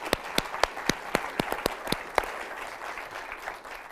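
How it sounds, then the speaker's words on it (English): An audience at a panel discussion applauds, starting with a few sharp, spaced individual claps near the microphone, then settling into a softer, steady patter of clapping that fades toward the end. "So I wanted everyone to also give you an individual round of applause."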